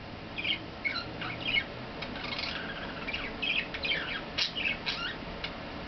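A pet budgie chirps and warbles indoors in quick, scratchy bursts of high tweets and squawks. It stays fairly soft and continuous throughout, with no talking.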